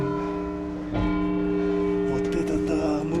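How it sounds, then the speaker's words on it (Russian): Inside the tower of Nördlingen's church, a large bell starts to ring, giving a deep booming strike with a long sustained hum. The sound is close and loud against a steady background. "Ой, как раз колокол начал стучать."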